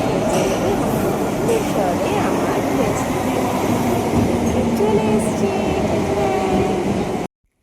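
A metro train bound for Dakshineswar rumbles steadily and loudly with a constant low roar and faint squeals, ending abruptly; voices are faintly audible.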